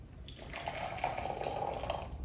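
Boiling water pours from a kettle into a glass in a steady, continuous trickle lasting a couple of seconds, close and fairly quiet, with a faint splashing hiss and no talking.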